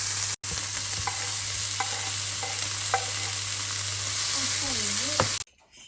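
Meat frying in a pan gives a steady, dense sizzle throughout, with faint voices and occasional clinks underneath, before cutting out abruptly near the end.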